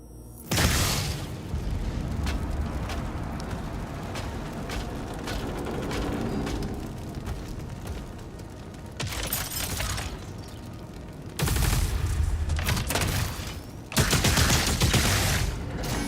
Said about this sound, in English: Firepower fires powerful plasma spikes at a moderate rate of fire.